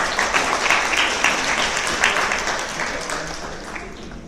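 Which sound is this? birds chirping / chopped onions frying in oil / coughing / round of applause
round of applause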